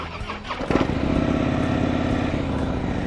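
A new 2013 Harley-Davidson FLD Dyna Switchback motorcycle at a dealership, starter whirring briefly before the engine catches and settles into a loud, steady, close, rumbling idle.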